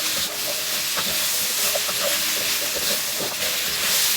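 Beef, capsicum and celery stir-frying on high heat in a pan, a dense continuous sizzle and hiss with a few faint clinks from tossing, close and steady throughout.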